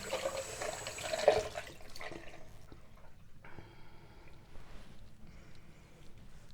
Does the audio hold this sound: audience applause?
no